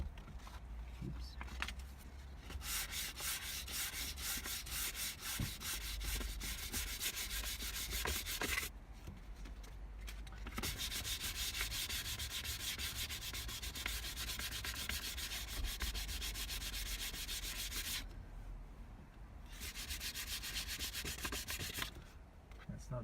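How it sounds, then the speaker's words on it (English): Sandpaper of 320 grit rubbing over an Alfa Romeo 156 steering wheel, a close, continuous rasping hiss in long sustained stretches separated by brief pauses. "So this is some 320 grit sandpaper"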